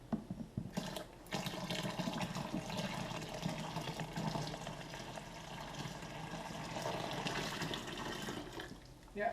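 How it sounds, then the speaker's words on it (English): Hot liquid poured slowly into a vessel while brewing beer at home, a continuous splashing pour of running liquid lasting several seconds, close and moderately loud. "we can just pour the rest of it slowly in without risking scalding anybody"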